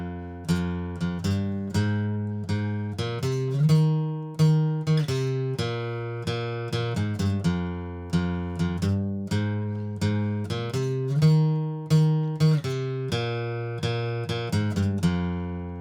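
A plucked guitar riff repeats a few times, with clear picked notes and ringing low strings, played alone at a steady moderate tempo.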